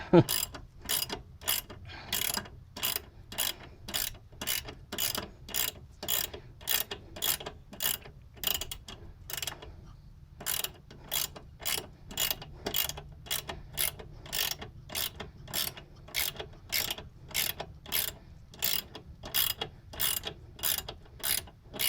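A ratchet tightens the lower control arm bolt on a 1997 Nissan Maxima, clicking in steady bursts of rapid pawl ticks with a short pause partway through, close and clear with no speech.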